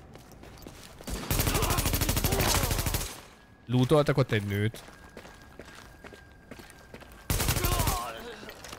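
Gunfire in the post-apocalyptic Times Square of Tom Clancy's The Division, with two loud sustained bursts of rapid automatic fire separated by footsteps and a voice talking in between.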